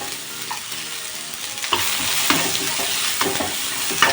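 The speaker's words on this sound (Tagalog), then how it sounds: "Yung sibuyas lang ang aking igisa" Sliced onions sizzle steadily in a hot pan for a bitter Filipino innards stew, with scraping stirs of a spatula cutting in at intervals over the constant frying hiss.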